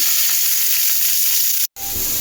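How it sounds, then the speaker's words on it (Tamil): Chopped onions sizzle loudly and steadily in a hot pan, a constant bright hiss with a brief cut near the end. "வெங்காயம் நல்லா வதங்கணும்."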